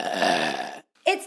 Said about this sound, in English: get my son to burp loudly just to get your attention